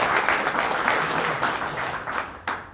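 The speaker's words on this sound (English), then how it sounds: "I'm going to clap anyway." An audience applauds for Bob Bruckner at a March 2022 UVARC club meeting, a steady round of clapping that holds for a few seconds and then thins out.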